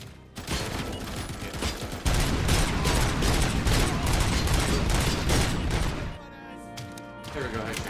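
Gunfire in the Robocop video game rattles out in dense, loud bursts of rapid shots, intensifying midway before cutting to a quieter stretch and resuming near the end.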